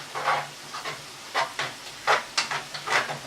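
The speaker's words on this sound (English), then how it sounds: "Give it a stir with a spoon first." A spoon stirs mashed potato mixed with double cream for a shepherd's pie, producing soft wet squelching strokes in short, irregular bursts, close and fairly quiet.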